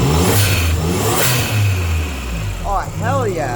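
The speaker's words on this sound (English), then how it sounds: "blow-off valve that this tuning company that built this car and put it together made" Suzuki Cappuccino with a tuner-built blow-off valve revs loudly up close, the engine rising and falling twice before a hissing valve release, with excited voices over it.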